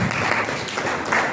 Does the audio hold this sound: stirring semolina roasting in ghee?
no